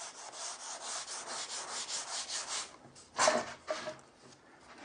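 240-grit sandpaper rubbed by hand over a wooden picture frame moulding, a rhythmic series of soft, close scratchy strokes followed by a few sharper scrapes.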